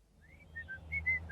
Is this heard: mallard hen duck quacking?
no